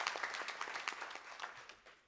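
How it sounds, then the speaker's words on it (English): An audience at a community land summit session claps, a dense patter of many hands that stays steady and fairly distant, then tapers off over about two seconds. "Let's clap for our sister Kabale."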